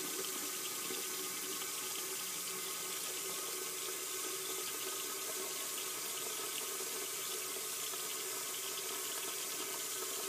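Water runs steadily from a tap into a sink during handwashing, a constant, moderately faint hiss and splash that does not change from start to end, with no voices.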